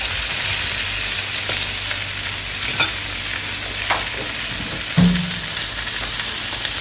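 Pork sizzles steadily in a pan while being stirred, with scraping touches and a couple of clunks of the utensil against the pan, one louder knock near the end.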